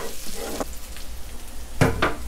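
Pounded chili frying in hot oil in a wok for a Thai squid basil stir-fry, soft crackling sizzle with a couple of sharper stirring scrapes and pops, close and fairly quiet.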